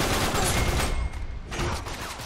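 Rapid gunfire in an Uncharted 3 online team deathmatch: loud, dense bursts of shots crowding together, then easing slightly before picking up again.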